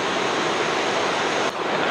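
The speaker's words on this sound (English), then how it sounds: "Made it to the waterfall, guys." Water pours over the Cascade waterfall in a steady, dense, close rush that never breaks, with no voices.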